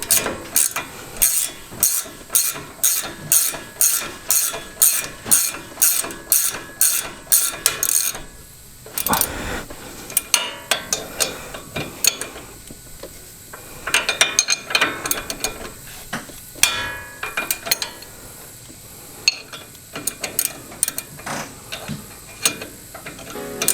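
A ratchet tightens the ball joint nut on an upper control arm, a fast run of evenly spaced clicking strokes close up, followed by slower, irregular ratcheting bursts and metallic handling.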